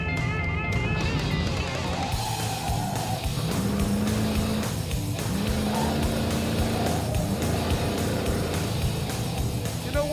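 A low-powered car driven wide open around the Laguna Seca race track, its engine droning steadily at full throttle with shifting pitch through the corners, loud and continuous from inside the car.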